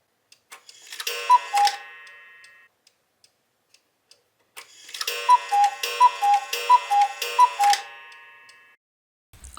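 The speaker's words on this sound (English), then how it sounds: "we bought our very first cuckoo clock" A cuckoo clock gives off a short run of ringing, bell-like ticks, then a pause, then a longer, evenly paced burst of bright metallic tones. It is close and clear, with no talking over it.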